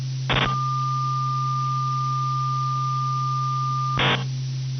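A generated 1200 Hz test tone holds steady and pure over a constant low electrical hum, bracketed by two short bursts of noise at its start and end.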